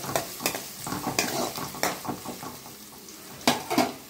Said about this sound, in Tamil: எண்ணெய் சூடாயிடுச்சு சின்ன வெங்காயம் நூறு கிராம் நல்லா கட் பண்ணி போட்டுக்கோங்க